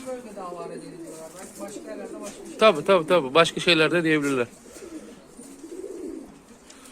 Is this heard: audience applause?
no